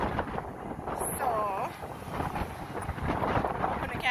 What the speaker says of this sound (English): I hope you can hear me because it's really windy.